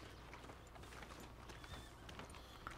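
Horse hooves clip-clop at a walk in the Western video game Red Dead Redemption, an irregular run of soft, fairly close hoof knocks over low ambient noise.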